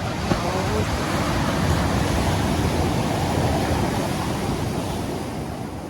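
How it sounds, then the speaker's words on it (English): Ocean waves along a shore, a steady broad wash of surf that runs the whole time without pause, loud and close, with some wind buffeting the microphone. "How the waves are always near, always there."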